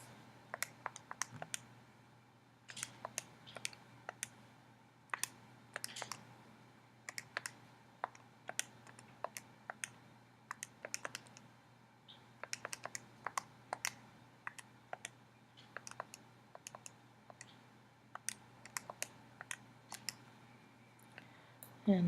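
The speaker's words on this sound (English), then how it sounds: "let me take a second and type this in" Numbers are tapped into a calculator during a math lesson, a quiet run of sharp, irregular key clicks in short bursts with brief pauses, close by and against faint background hum.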